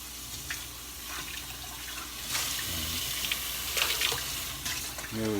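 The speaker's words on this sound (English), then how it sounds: "Let me rinse this off again." Tap water runs into a kitchen sink as a pot lid is rinsed while making meatless chili, a steady splashing rush with brief clatters and shifts in the flow, close by and without speech.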